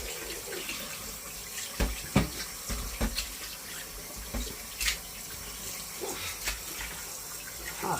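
Tap water runs into a sink while raw chicken is washed, a steady soft stream broken by splashes and clunks of handling, fairly quiet and close.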